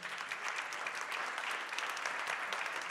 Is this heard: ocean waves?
no